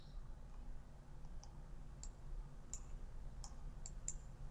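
Several soft, sharp mouse clicks on a hyperlink in a university dashboard, spaced irregularly over a low steady hum, close and faint.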